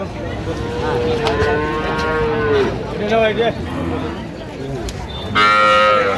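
Cattle moo repeatedly at a farm in Jessore, Bangladesh, several long, low, drawn-out calls overlapping close by, ending with a louder, higher bellow.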